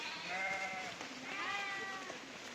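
Sheep grazing in a forest let out two wavering bleats, one early and one later, close and moderately loud over quiet outdoor background.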